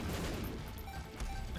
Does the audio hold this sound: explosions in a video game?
yes